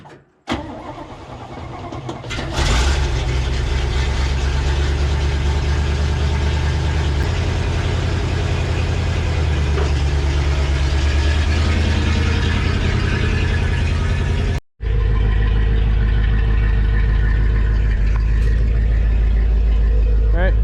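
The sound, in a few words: Chevy C50 Holmes 475 wrecker truck engine running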